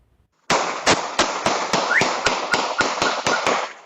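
A home security camera catches a rapid burst of about a dozen sharp gunshots fired in quick, evenly spaced succession outdoors in a residential neighborhood, crisp and fairly loud after a moment of silence.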